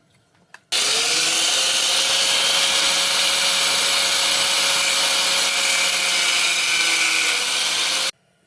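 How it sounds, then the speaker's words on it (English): An angle grinder cuts through a stuck bolt during a Honda B20B to B16A VTEC engine swap. After a brief knock, one loud, continuous, close whine with a slight pitch drop runs about seven seconds, then stops abruptly. "I'm gonna just hit it with the grinder, and hopefully it kind of breaks loose."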